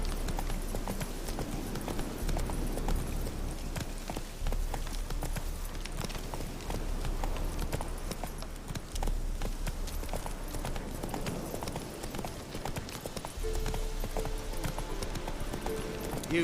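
Hooves of the horse Roach in the Witcher video game clip-clop steadily and continuously throughout, close and clear, with a brief low rumble in the background.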